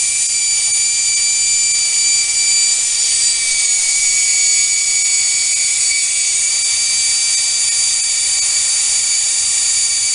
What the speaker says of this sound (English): I'm drilling it up in stages, each hole makes it easier.